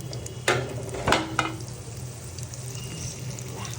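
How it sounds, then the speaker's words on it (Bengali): Chicken pieces fry in hot oil in a home kitchen, giving a steady low sizzle with a few sharp crackles and spatters near the start before settling into an even hiss. "চিকেনগুলো একে একে ভেজে নিচ্ছি।"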